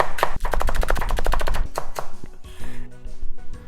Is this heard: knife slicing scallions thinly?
yes